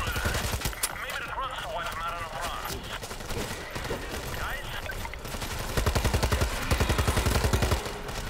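Gunfire crackles in the zombie co-op shooter World War Z Aftermath, with repeated shots bursting under a player's talking, building into a rapid run of blasts near the end.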